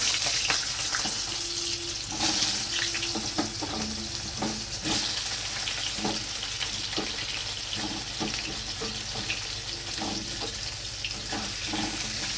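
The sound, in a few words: raw banana pieces frying in oil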